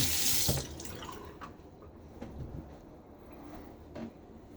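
Tap water running as a shaving soap tin is rinsed under it in a sink, an initial loud gush that settles into a softer splashing stream with small clinks and drips.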